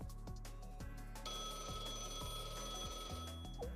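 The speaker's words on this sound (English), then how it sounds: "Beep, beep, beep. A phone call now." Electronic phone ringing alert in the Blue Archive video game, a rapid repeating trill of bright tones over quiet game music, steady and insistent for a few seconds without speech.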